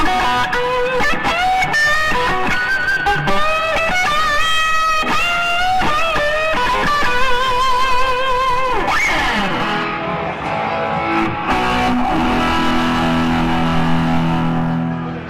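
Distorted electric guitar, a Michael Kelly through a Fuchs tube amp's dirt channel with no pedals, plays a continuous overdriven riff with sustained chords and bends, loud and up close, with no talking.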